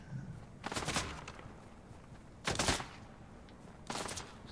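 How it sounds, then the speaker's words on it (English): Gunfire in a Fortnite match comes as three separate bursts of rapid shots a second or two apart, fairly close and clear over quiet outdoor ambience, with no one talking. "Someone's shooting at me."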